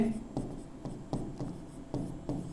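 Chalk or marker strokes on a board during a physics lesson come as short, scratchy bursts in an irregular rhythm, about seven quick strokes, close and clear, with a teacher's voice faintly in the background.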